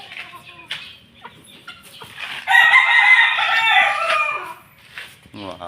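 Roosters crow and hens cluck in a backyard flock of three-month-old pumpkin hatch and street comb hatch chickens; one loud, sustained crow rises in the middle over scattered nearby clucks and soft calls.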